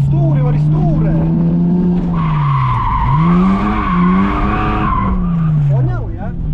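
A BMW E46 drifts on an airfield, its engine droning loudly while the tires squeal in a long sustained skid that swells and fades, with someone talking over it.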